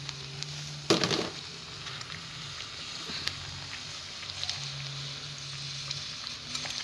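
Soya beans tipped into a hot pan sizzle with a loud burst of frying at the start, then a steady crackling hiss continues under a low background hum.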